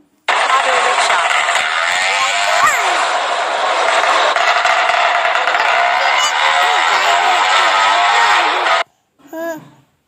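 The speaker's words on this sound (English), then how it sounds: "Auto rickshaw." A loud, continuous horn blares for several seconds over engine noise, then cuts off, followed by a brief short honk.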